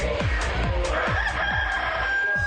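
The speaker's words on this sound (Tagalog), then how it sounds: "Ayun, may manok." A rooster crows nearby while chickens cluck in quick, repeated bursts, some of them close and loud.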